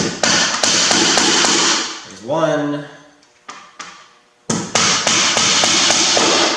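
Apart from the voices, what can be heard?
hammering nails part way into wooden bat house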